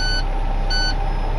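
A truck's reversing alarm sounds out over the steady low rumble of its idling engine, with about three evenly spaced electronic beeps repeating roughly every half second.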